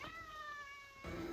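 A single cat gives a drawn-out, falling meow at close range, quiet and alone, followed by a brief burst of household noise.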